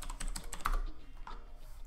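Fast clicks of a computer keyboard as a search is typed, close keystrokes in a quick burst that tapers off, alone without talk.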